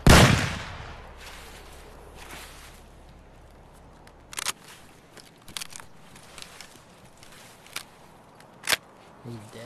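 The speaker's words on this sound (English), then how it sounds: "They just started shooting at me." Sporadic gunshots in Escape from Tarkov: one loud blast at the start, then several sharp, isolated cracks scattered over the following seconds against a quiet background.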